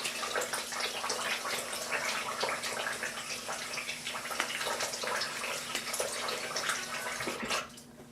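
Water running steadily from a tap during a wet shave, a continuous close splashing hiss with faint drips, cutting off near the end.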